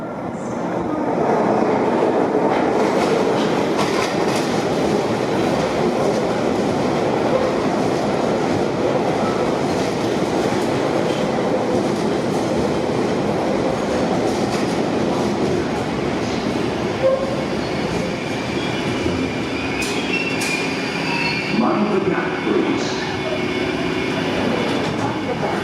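An Elizabeth line train passes close by, a loud sustained rumble and rush of wheels on rails with rhythmic clatter, easing slightly toward the end.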